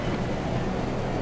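A race car splashes through a puddle on a damp, rain-soaked track in Assetto Corsa EVO, giving a steady broadband wash of spray and road rumble for a moment, fairly loud and continuous with no talk.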